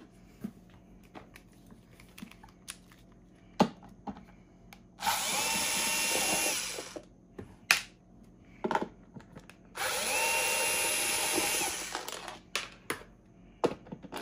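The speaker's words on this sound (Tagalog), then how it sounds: "kailangan natin ng Phillips screwdriver and tatanggalin natin yung tatlong screw na to." Screws being driven out of an electric kettle's housing with a Phillips screwdriver: two sustained, close whirring bursts of about two seconds each, with scattered small clicks and knocks between and around them.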